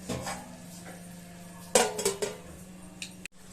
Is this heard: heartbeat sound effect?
no